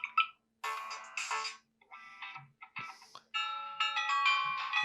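A Samsung Galaxy A16 phone plays a series of short bright electronic ringtone chimes, each snippet starting and stopping in turn, clear and close with no voices.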